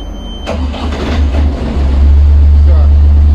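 A free-fall lifeboat engine cranks and catches during a weekly inspection, a loud starter burst followed by a rising, steady low rumble that settles into a strong idle, with someone speaking briefly near the start.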